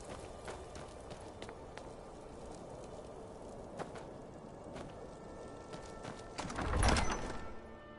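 Horse hooves clip-clop steadily at close range, pulling a cart along a road in Skyrim VR, with a louder thudding burst near the end and no talking.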